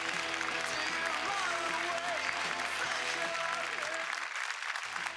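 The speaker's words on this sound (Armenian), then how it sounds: "դրա համար հիմա ուղղակի ծափարում ենք" A studio audience applauds in a dense, sustained burst of clapping that fades out near the end, with no voice over it.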